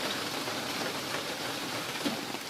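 Heavy rain falls steadily through the whole stretch, a dense even hiss with no breaks or rises, outdoors during mushroom foraging in a downpour.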